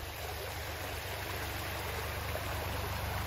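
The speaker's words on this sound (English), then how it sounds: "there is so much water that is travelling down this canal" Heavy water rushes steadily along a canal carrying water into England, a constant, broadband roar with no pauses and no voices.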